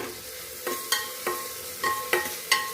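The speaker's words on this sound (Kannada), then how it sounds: "ಈಗ ಇದಕ್ಕೇನೆ ಒಂದು ಕಾಲು ಟೀ ಸ್ಪೂನ್ ಆಗೋಷ್ಟು ಅರಿಶಿನವನ್ನು ಕೂಡ ಸೇರಿಸ್ಕೊಂಡು ಟೊಮೆಟೊ ಸ್ಮೂತ್ ಆಗೋವರೆಗೂ ನಾವು ಇದನ್ನ ಫ್ರೈ ಮಾಡ್ಕೊಳ್ಳೋಣ" Tomatoes fry with turmeric in a pan while being stirred, giving a low sizzle broken by six sharp scraping and clinking strokes of a spoon against the pan at an uneven rhythm.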